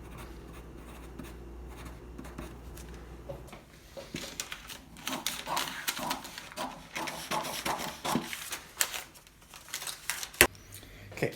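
Scissors cut through a paper sleeve pattern in a quiet room, a series of close, soft snips and rustles of paper after a brief still pause.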